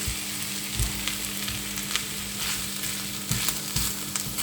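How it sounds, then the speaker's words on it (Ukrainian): Food sizzles steadily as it fries in tomato paste and ketchup in a pan, with a constant crackle and occasional soft knocks of stirring close by and no voices. "Зараз я ще поставлю його обжаритись в томатній пасті і кетчупі, в томатному соусі."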